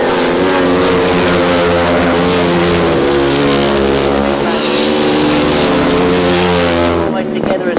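Grasstrack sidecar racing outfits roar past on the last lap, loud layered engine howls with shifting pitch that fade slightly at the end, while a commentator talks over the racing.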